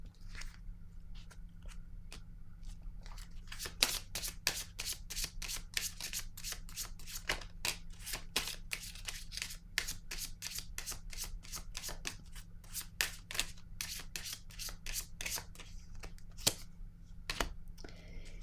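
Tarot cards handled and laid down in a quiet room, a long run of crisp, rapid snaps and flicks of card stock shuffling and slapping, close and fairly faint, with no talk.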